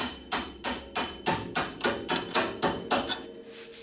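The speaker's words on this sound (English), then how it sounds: "Now I'm just going to take a center punch," A hammer strikes a center punch to drive out a strut bolt on a 2000 Honda Civic front suspension, about a dozen sharp metallic blows in a steady, even rhythm, close and loud with no talking.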